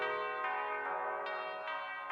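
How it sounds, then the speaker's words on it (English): Church bells ringing for a royal anniversary, loud overlapping tolls struck about every half second, each ring blending into a rich sustained hum with no voices. "church bells heralded the 10th anniversary of Alexander's ascension to the throne"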